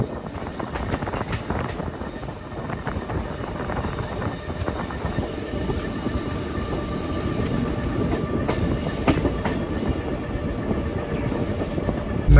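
Jammu Tavi Express running on rails on the Bikaner route, a steady close rumble with dense clickety-clack of wheels over joints, heard from on board throughout with no break.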